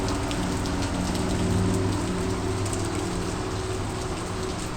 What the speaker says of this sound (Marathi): पाऊस एवढा फास्ट येतो ना की रेनकोट पण घालायला मिळत नाही.